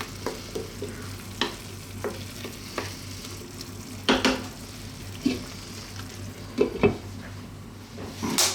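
Tomato and cumin chickpeas simmering on low heat in a pan, a steady soft bubbling and sizzle with occasional spoon stirs and clinks of the pot scattered throughout, close by and with no one talking.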